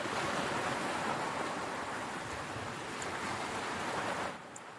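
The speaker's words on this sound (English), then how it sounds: "Till you just hear the waves of the ocean again." Ocean waves wash in a continuous, full roar of surf with no breaks between them. The sound eases slightly and drops in level just before it ends.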